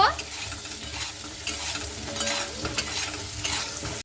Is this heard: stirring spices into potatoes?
yes